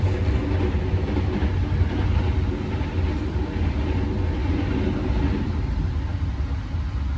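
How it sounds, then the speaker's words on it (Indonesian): A KRL commuter train rumbles past, heard from inside a seated intercity passenger train as a steady, loud low roar and clatter without pause, with no talk. "Wih, ada KRL lewat."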